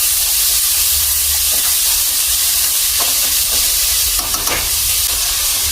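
Masala and tomato stir-frying in a pan on a home stove, with a steady close sizzle and hiss and occasional soft stirring scrapes throughout, no talking.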